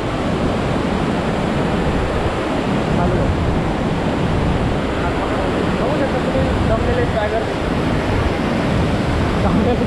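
Water rushes steadily down a waterfall in the countryside, a dense, unbroken roar filling the whole stretch without pause.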